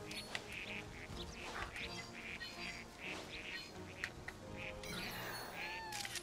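Ducks in New Pokémon Snap give repeated short quacks in a steady, evenly spaced rhythm over background game music and ambience.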